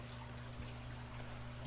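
Water poured back into a stacked 55 and 60 gallon aquarium tank setup, a steady soft stream of liquid running continuously and fairly quietly close by.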